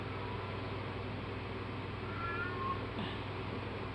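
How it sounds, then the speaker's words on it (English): A cat crying at the door, heard faintly from inside: soft, distant meows rising briefly over a constant low background hum, with no talking. "cat's crying out the door."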